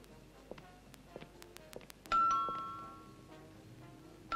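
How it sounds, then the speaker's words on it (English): Doorbell in a home ringing once with a clear two-tone chime that rings out and fades, after quiet scattered clicks and rustles. "the doorbell rang"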